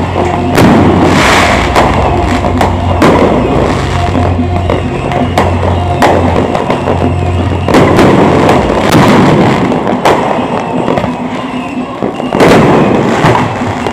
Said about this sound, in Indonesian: kelihatan tuh juga lagi ngidupin petasan tuh di mana-mana